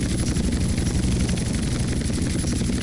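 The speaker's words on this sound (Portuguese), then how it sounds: "O helicóptero original do jogo fica bonito, né?" The original helicopter in GTA San Andreas flies with a steady, loud rotor and engine drone that holds constant throughout, with no speech.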